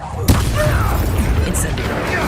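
Incendio fire spell cast in the video game Hogwarts Legacy, a sudden booming burst of flame near the start followed by a sustained crackling rumble, with speech over the game audio.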